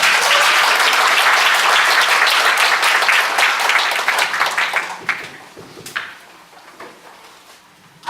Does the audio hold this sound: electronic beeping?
no